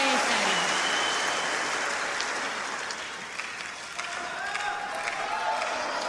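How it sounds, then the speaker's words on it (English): Continuous dense applause from tennis spectators at Wimbledon, a steady rain-like wash of clapping heard at a distance, with faint talk over it. "Applause in the background, by the way"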